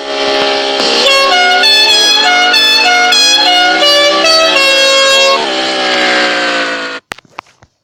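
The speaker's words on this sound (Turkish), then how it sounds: "İşte böyle bir kornası var arkadaşlar." A loud, blaring multi-tone car horn in a racing video game sounds steadily for about seven seconds, then cuts off abruptly, followed by a few faint clicks.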